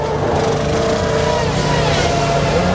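A Formula 1 car engine at the 1995 Japanese Grand Prix, a continuous high-revving snarl that stays loud and steady throughout with no break.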